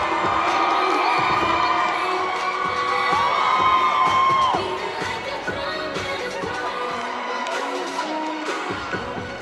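A crowd at Navy Pier cheers and whoops for a charity celebrity dance competition, loud and sustained for several seconds, then settling into a lower, scattered roar of voices.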